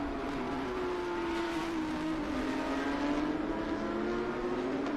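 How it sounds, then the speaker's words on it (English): Porsche 991 race cars lap the COTA circuit during an IGT sprint race, a steady, distant engine drone with a gently rising and falling pitch, heard alone and fairly faint. "So Liam Gray doing very well in that 991"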